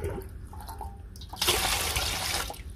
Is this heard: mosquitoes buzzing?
no